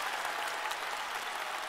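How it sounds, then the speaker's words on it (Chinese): A studio audience claps for two singers at a televised music competition, a steady, even wash of applause lasting the whole short moment, with no voices over it. "我们再次把掌声送给两位歌手"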